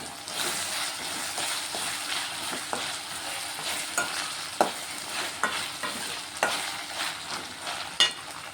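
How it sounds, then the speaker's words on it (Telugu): Ivy gourd pieces fry in a pan with ginger-garlic paste for a curry, under a constant soft sizzle. Repeated scraping stirs of a spatula land at an uneven rhythm throughout. "దొండకాయ అయితే చక్కగా ఫ్రై అవుతుంది ఇలా కొంచెం అల్లం వెల్లుల్లి పేస్ట్ వేసుకుంటున్నాం"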